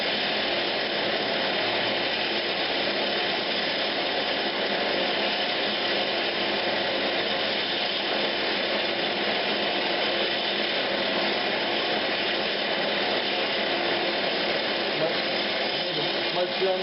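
A wooden tobacco pipe bowl cleaner is sanded while spinning on a woodturning lathe, a continuous steady whir with abrasive hiss that runs unbroken throughout.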